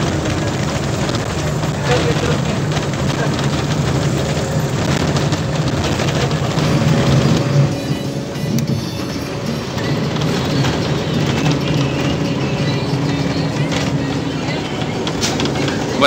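A continuous low engine rumble and road noise from a moving bus near Naolinco, Mexico, steady and close, with rattles and occasional clicks over the drone.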